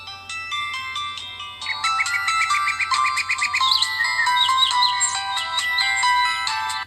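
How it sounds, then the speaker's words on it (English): A SMOOREZ device plays its boot-up melody at startup: a bright electronic chime of rapid tinkling notes that rises into a longer tune over several seconds. It is clear and alone over a faint low hum. "just wait for the boot up sound"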